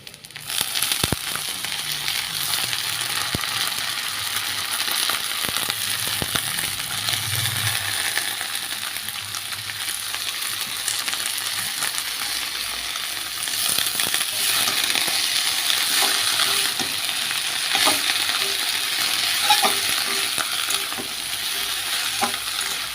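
Helencha greens fry in a pan with a fish head, crackling and sizzling steadily up close, with occasional stirring scrapes and clinks of a utensil against the pan and no talk.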